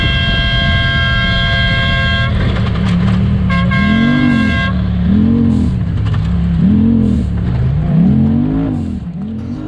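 A UTV horn blares in a couple of steady bursts over the loud, revving engine of a Pro Mod UTV racing off-road at the 2020 IXCR Rock Run, and the engine then surges and falls repeatedly as it accelerates.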